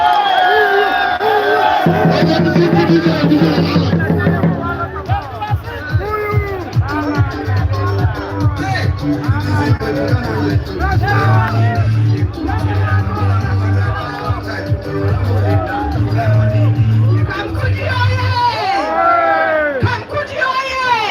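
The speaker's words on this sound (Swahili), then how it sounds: "Pigia mama makofi." A large rally crowd at Kamukunji roars and cheers loudly and continuously for someone speaker, with whoops, shouted voices and scattered clapping sustained throughout.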